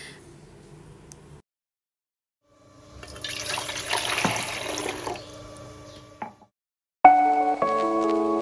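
Water runs from a tap to be heated for drinking: a quiet start, then a few seconds of hissing running water, a pause, and a sharper clatter of tonal sounds at the end, with no talk.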